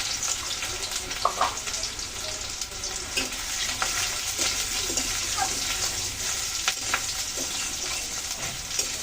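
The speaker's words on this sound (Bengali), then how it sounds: "সামান্য ভালো একটু ভেজে নেবো পেঁয়াজগুলো" Onions sizzle and crackle steadily in hot oil in a wok, with occasional stirring scrapes over the constant frying hiss.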